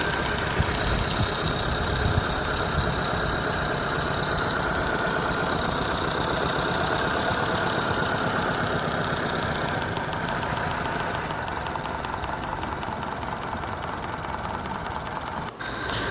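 Continuous loud mechanical chugging of a coal-fired live steam model locomotive running in reverse, with a steady rhythmic throb and hiss, running without pause throughout, no voices.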